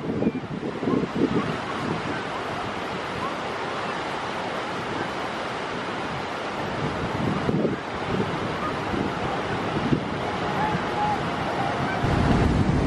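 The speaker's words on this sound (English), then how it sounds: "I hope it's not too windy for you guys" Strong gusting wind buffets the microphone at Bridal Veil Falls on the Niagara, mixed with a continuous rushing roar of falling water, steady and loud throughout, with no talking.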